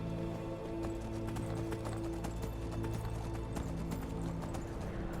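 Steady clip-clop of horse hooves in Skyrim under a continuous droning game soundtrack, rhythmic and fairly even throughout.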